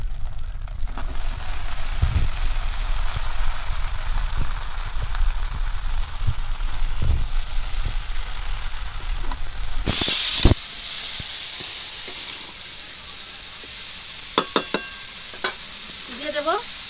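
Water lily stems, potato and eggplant land in a hot pan of fish oil, giving a steady close sizzle and hiss that swells partway through, with stirring scrapes and a few sharp clinks near the end.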